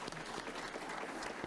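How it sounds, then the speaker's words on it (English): Brief audience applause at a mayors' summit, a soft, fairly distant patter of many hands clapping in a continuous wash, with no speech over it. "let's give those folks a round of applause"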